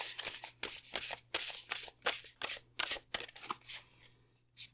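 Tarot cards being shuffled by hand, close and crisp. Riffles and bridge-style flutters come in quick irregular bursts with short gaps between them, and no one talks.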